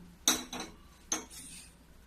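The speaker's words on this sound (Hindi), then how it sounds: "तो एक सस्पेन चढ़ा दी हूँ।" A metal saucepan is set on a kitchen stove, giving a few close metallic clanks and clinks in quick succession over a low background hum.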